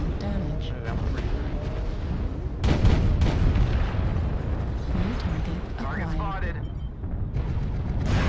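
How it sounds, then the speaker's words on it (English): Artillery strikes land in MechWarrior Online, a Clan Wolf versus Rasalhague Republic faction battle, with heavy booming blasts and rumbling impacts under game radio chatter and talking, including a strong hit about a third of the way in. "Just goddamn artillery strikes."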